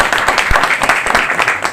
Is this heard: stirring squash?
no